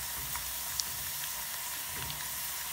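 Homemade potato chips frying in oil, a steady close sizzle and hiss with small crackles and pops throughout.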